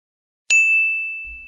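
A single bright notification bell dings once, sharp and loud, and its clear metallic tone rings out and decays slowly over about a second.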